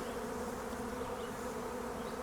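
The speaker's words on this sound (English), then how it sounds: "every bee in the valley has come to help them out a little bit" A swarm of bees gathers around spare queen bees set out on a truck step, producing a loud, steady buzzing hum that continues unbroken throughout, with no voices.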